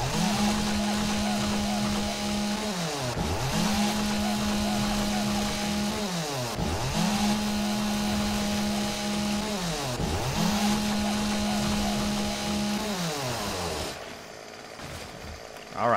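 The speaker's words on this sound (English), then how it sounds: "So you can see how fast that is with a chainsaw, especially a high-level one like I have a 528 chainsaw." A high-level chainsaw cutting in the video game 7 Days to Die, a loud steady engine whine revving in repeated cycles with dips between cuts, idling down near the end.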